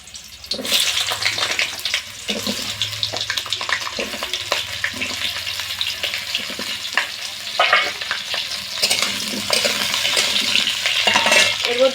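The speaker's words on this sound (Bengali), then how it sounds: "তেলটা গরম হয়ে গেছে, এখন পটলগুলো ভেজে নেব।" Pointed gourd pieces fry in hot mustard oil in a kadai over a stove, a loud, close, continuous sizzle with the scrape and shuffle of stirring throughout.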